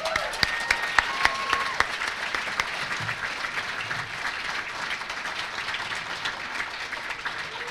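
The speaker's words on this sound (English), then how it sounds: "let's give these teachers a big old round of applause" A ceremony audience gives a sustained round of applause for teachers at a student production awards event, a dense, steady roar of many hands clapping with a few louder individual claps near the start.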